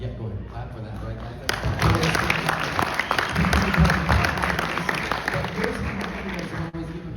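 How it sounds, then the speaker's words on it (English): Applause from a fan convention panel audience fills the room as a steady, dense clatter of many hands, moderately loud and sustained for several seconds. "go ahead. Clap for that, right?"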